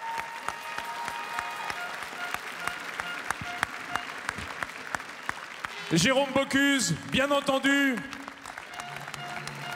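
Audience applause fills a ceremony hall at the Bocuse d'Or 2019 culinary awards, steady broadband clapping throughout while an announcer speaks over it, his voice rising clearly near the end.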